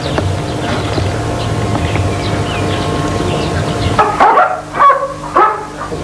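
Military paratrooper dogs barking loudly, several sharp barks and yips in quick bursts near the end, following a steady noisy outdoor background.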